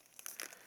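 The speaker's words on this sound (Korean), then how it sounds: "그리고 오레오를 터줘요." A packet of Oreo cookies torn open by hand, giving a short, soft burst of crinkling plastic over less than a second, close by with no voices.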